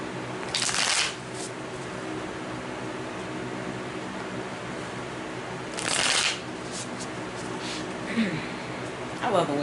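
Tarot cards being shuffled in two distinct bursts of crisp riffling, separated by a long stretch of steady room hiss, with a few faint softer card rustles near the end.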